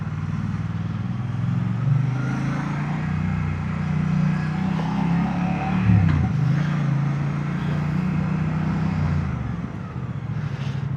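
Heavy street traffic in Gdańsk, Poland, heard from a moving motorcycle: a steady rumble of car and engine noise with a motor droning close by throughout and no break.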